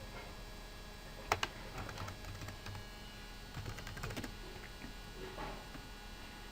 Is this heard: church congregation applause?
no